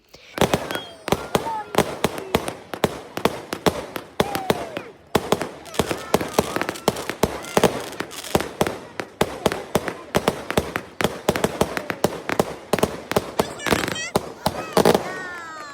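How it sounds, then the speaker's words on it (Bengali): Fireworks bursting close by at a New Year party, a dense rapid barrage of sharp loud cracks and pops with crackling trails running throughout, with crowd voices mixed underneath. "আমি কখনো এত কাছ থেকে এত সুন্দর আতশবাজি দেখিনি"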